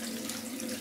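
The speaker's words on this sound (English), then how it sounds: "cold water rinse." Tap water runs steadily into a sink for a cold rinse after a shave, a brief and soft close-up splashing stream with no voices.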